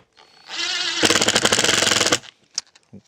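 An AEG BSS 18C2 cordless impact driver drives a 5 mm screw: the motor whirs up, then breaks into a loud, rapid train of hammering impacts for about a second before stopping, followed by a couple of faint clicks.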